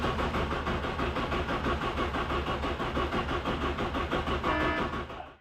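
A car's engine cranks and runs on a jump-started battery after a new coolant temperature sensor and cleaned plugs, giving a loud, continuous mid-pitched engine roar that cuts off at the end.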